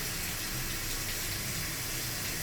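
Tap water runs steadily into a hospital sink during a surgical hand wash, a continuous close broadband gush with no talking.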